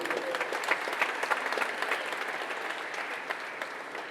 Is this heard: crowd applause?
yes